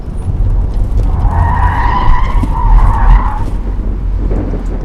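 A BMW Z3 fitted with sport suspension skids through a cone slalom at 71 km/h, its tires squealing in one loud, continuous screech over the engine drone, with no talk.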